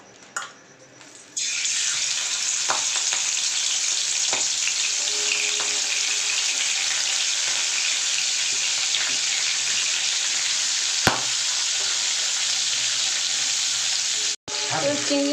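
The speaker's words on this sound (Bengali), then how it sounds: "মাছগুলো আমি উল্টে পাল্টে এভাবে ভেজে নেবো" Prawns fry in mustard oil in a wok, a loud, even sizzle that starts suddenly and carries on steadily up close, with a few light clinks of turning before it briefly cuts out near the end.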